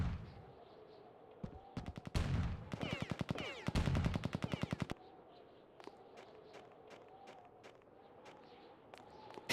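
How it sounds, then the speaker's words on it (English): A weak shotgun fires in a Duke Nukem video game, with separate sharp blasts, then a rapid rattling run of shots, and later sparser clicks and impacts, all fairly quiet without talk. "We have a Duke Nukem game with a not great shotgun."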